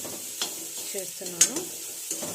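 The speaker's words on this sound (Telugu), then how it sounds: "ఇప్పుడు ఆమ్లెట్ని మనం కొంచెం ముక్కలుగా చేసి కీమాలా చేసుకుంటే ఇంకా బాగుంటుందండి" Chopped omelette pieces are stir-fried in a pan, with a few distinct scraping strokes of a spatula over a soft, low sizzle. It's short, close and has no talk.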